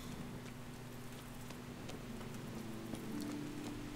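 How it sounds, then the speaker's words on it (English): Soft, steady rain in the video game Kingdom Come: Deliverance patters faintly in the background, with scattered drops and a low hum running throughout. "All this rain."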